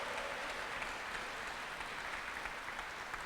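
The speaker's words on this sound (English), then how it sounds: "let's give a round of applause to Recorder of Deeds, Michael Butler, for holding this event" At a Hispanic Heritage Month event, an audience gives a steady round of applause for Recorder of Deeds Michael Butler. The clapping is dense and even but faint and distant.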